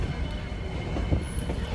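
A toy train runs on its rails during an early-morning ride, giving a steady, fairly close rumble of wheels and carriages that continues without a break.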